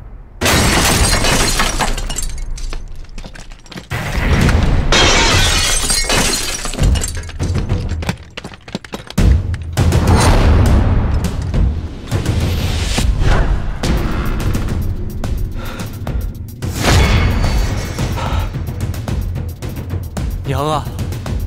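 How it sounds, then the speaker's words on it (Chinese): Explosion sound effect in a Chinese anti-Japanese war film, heavy booms and shattering debris crashing repeatedly across the scene, loud and dense, with shouting voices over it. "头，那边爆炸了！"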